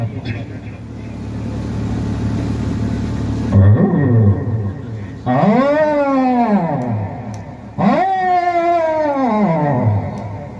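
A comedian imitates a dog's barking and howling with his voice, giving two long, loud, rising-and-falling howls after a rough growl.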